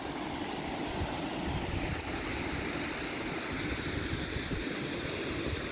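Snowmelt-swollen Iller river near its source at Oberstdorf rushing steadily, a dense, continuous broadband roar of flowing water close by, loud and unbroken with no voices.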